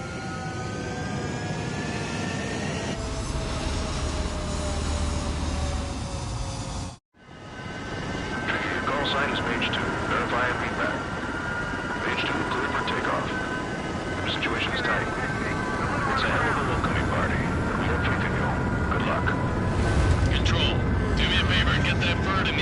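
Jet fighters in the video game Ace Combat 7 scramble to take off, a continuous roaring engine whine with rising tones and radio-style chatter layered over it, briefly cutting out partway before the roar resumes.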